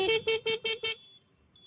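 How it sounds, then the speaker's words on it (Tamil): A modified horn on an old vehicle blasts five short, loud honks in a steady rhythm, then falls to near silence with a faint tone trailing off. "ஹார்ன் வச்சு காமிக்கிறேன் பாருங்க"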